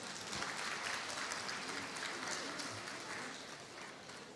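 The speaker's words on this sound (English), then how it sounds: "Give him another round of applause." Steady applause from guests at a life member celebration and gala dinner, a full, even round of clapping that eases slightly toward the end.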